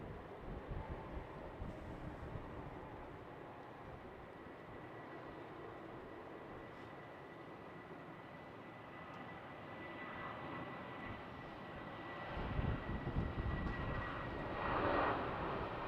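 An airliner takes off at Amsterdam Schiphol airport in winter, its engines giving a steady, distant jet roar that swells slightly toward the end.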